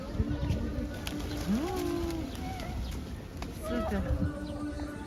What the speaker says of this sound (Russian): у нас не такие наглые голуби